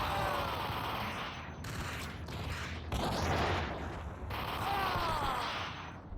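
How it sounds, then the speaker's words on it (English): Video-game gunfire in Max Payne, a dense, sustained rattle of shots with brief lulls, loud and close, almost continuous across the stretch. "Gun him down"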